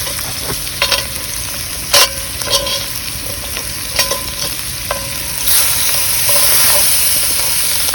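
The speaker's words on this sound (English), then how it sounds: "I'm just trying to let those onions, those vegetables soften up a smidgen." Onions and vegetables cooking in a Dutch oven over a campfire for creamy chicken soup, close sizzling with repeated metallic clanks and scrapes of a utensil, rising into a louder hissing sizzle near the end.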